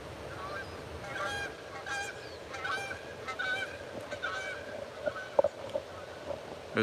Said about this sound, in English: I was trying to catch those geese, but they're gone.